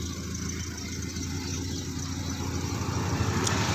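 A car's engine hums at a low, steady idle as the clutch is slowly let out during a driving lesson, the rumble growing slightly fuller toward the end with no talk over it.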